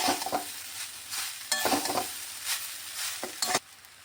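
Flattened rice (poha) seasoned with salt and sugar being mixed in a pan, a series of close scraping, rustling stirring strokes with soft bumps, no voices.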